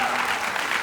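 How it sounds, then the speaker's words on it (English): A theater audience at a film premiere Q&A claps in a steady, dense wash of applause, heard only for a split second. "We should give Todd a round of applause."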